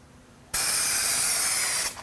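An aerosol can sprays clear coat onto a car headlight, giving a steady, loud, close hiss that starts abruptly and runs for over a second before cutting off.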